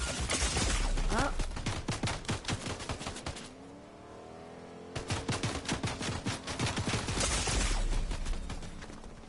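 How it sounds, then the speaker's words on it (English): Sustained automatic gunfire in Fortnite hammers at a car windshield in dense rapid volleys, pausing briefly mid-clip before resuming loud and close, with an engine humming underneath. "they're shooting your windshield out"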